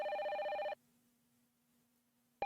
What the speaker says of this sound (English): And a phone call.